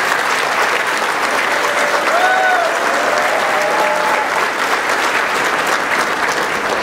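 A commencement audience at the 2013 College of Menominee Nation ceremony applauds Jared Westcott, giving steady, dense clapping that fills the room evenly from start to finish with no talk over it.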